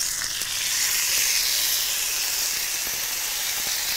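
An entrecôte beef steak sears in a hot, oiled pan, giving off a loud, steady sizzle and hiss that fills the whole stretch with no talk over it.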